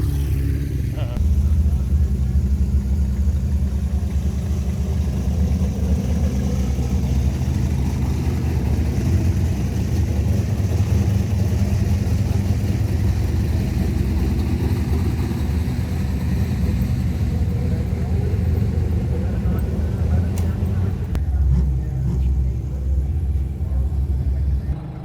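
A V6 turbo drag car idles and rumbles steadily for the whole stretch, a deep, constant engine drone close by with no clear revving peaks.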